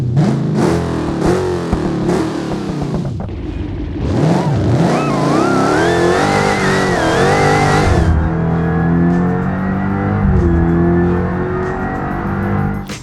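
A Dodge Hellcat 6.2 liter V8 in a BeamNG game mod, revving hard in rising and falling bursts, then settling into a steady high drone, loud and continuous with no one talking.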